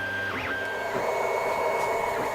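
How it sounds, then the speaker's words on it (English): A Longer Cube2 3D printer running with its cooling fans, a steady whir and hum under rising and falling stepper-motor tones that sweep up and down, heard close and without talk. "there is a second fan on the bottom of the 3D printer that I just realized that is probably the loudest of all"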